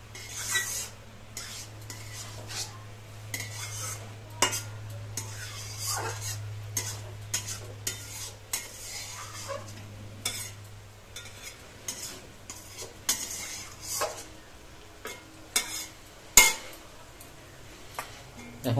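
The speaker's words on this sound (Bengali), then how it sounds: "নাড়িয়ে চেড়ে নেবো।" Rohu fish head and cabbage curry is stirred in a pot with a utensil scraping and clanking against the metal, over a soft background sizzle, in irregular bursts with occasional louder knocks, along with some quiet talking.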